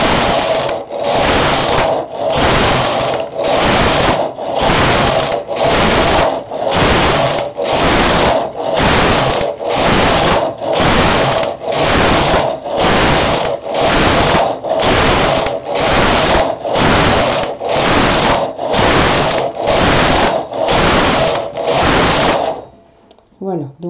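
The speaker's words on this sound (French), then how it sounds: "on met son fil dans l'encoche du chariot et on va tricoter en jersey autant de rangs que l'on doit faire" A knitting machine carriage is pushed back and forth knitting stockinette rows, a loud, close, regular series of about twenty rasping mechanical sweeps, each a second or so long with brief gaps, ending in quieter clicks.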